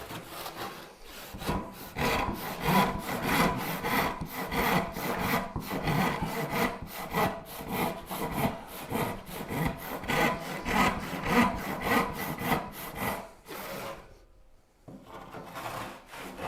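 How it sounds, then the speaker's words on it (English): A hand saw rasps steadily through wooden lumber for a Viking chair in quick, regular back-and-forth strokes, close and loud, pausing briefly near the end before resuming. "I was hard away sawing this lumber"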